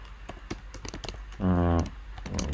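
Brisk typing on a new computer keyboard, a run of sharp close key clicks building to a dense, louder burst of keystrokes midway, then scattered taps trailing off.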